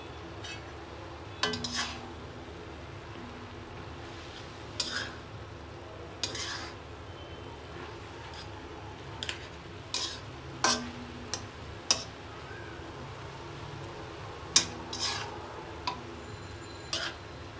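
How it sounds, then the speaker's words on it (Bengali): Thankuni leaves boiling in a pan are stirred in scattered bursts, with a spoon scraping and clinking against the metal now and then over a steady simmering hiss and a faint background hum. "আমি নাড়াচাড়া করে সেদ্ধ করব"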